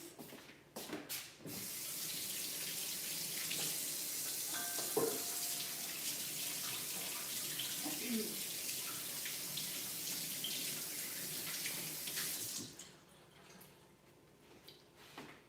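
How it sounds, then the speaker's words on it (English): Tap water runs steadily into a sink while hands are washed beneath it, a continuous splashing stream lasting about twelve seconds before cutting off, with a few faint knocks at either end. "Let me wash my hands."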